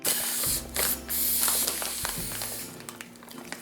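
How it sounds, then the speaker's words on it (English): Air being sucked out of a plastic bag through a straw, a close, steady hissy rush with brief stops and restarts, a low mechanical hum running underneath throughout. "Then you take a straw, place it in the corner, and then suck the air out of it."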